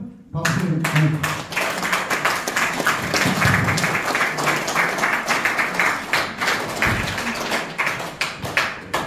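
Audience clapping steadily at an outdoor memorial ceremony in Gwanghwamun, Seoul, a dense, close patter of many hands with a few sharper taps and thuds, continuing evenly throughout.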